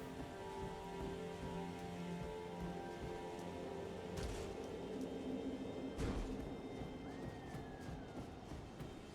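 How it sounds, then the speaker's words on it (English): Steady rain falls in the Elden Ring video game, a dense, continuous hiss of drops with a couple of sharp, louder splashes or cracks standing out midway. "I bet you're real happy with your hat choice when it fucking rains, huh?"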